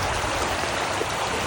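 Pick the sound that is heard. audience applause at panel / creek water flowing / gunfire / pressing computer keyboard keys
creek water flowing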